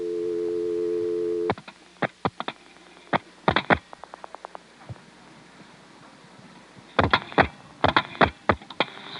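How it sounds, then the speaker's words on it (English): A step-by-step telephone exchange answers a busy test with a steady tone that stops after about a second and a half. Then come sharp clicks and clunks from the dialing and switching gear, some single and some in quick clusters. "Now I'm going to dial a busy test in 361 using the director, 361-2299."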